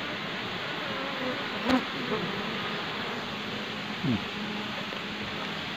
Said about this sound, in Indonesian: untuk lebah seperti ini masih aktif banget